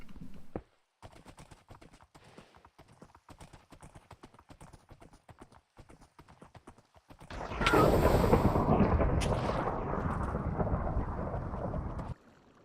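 Thunder from a lightning storm in a mining game crashes in loudly after a stretch of rapid clip-clop hoofbeats, a broad rumbling roar that holds for several seconds before cutting off.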